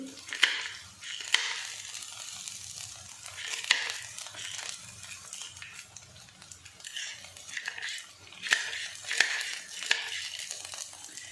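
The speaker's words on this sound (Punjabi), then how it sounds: "ਅਸੀਂ ਚਿੱਲੀ ਕਟਰ ਦੀ ਸਹਾਇਤਾ ਦੇ ਨਾਲ ਹਰੀਆਂ ਮਿਰਚਾਂ ਕੱਟਦੇ ਹੁੰਦੇ" A hand-pulled chili cutter chops green chilies for a mixed dal tadka, giving repeated crunchy, crinkling bursts and sharp clicks at an uneven rhythm, close and moderately loud, with faint kitchen clatter underneath.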